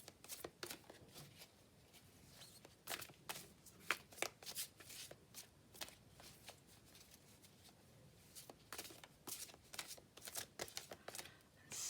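A Mons Tarot card deck is shuffled by hand in quick, irregular bursts of riffling and slapping cards, close and fairly soft, with brief pauses between the flurries.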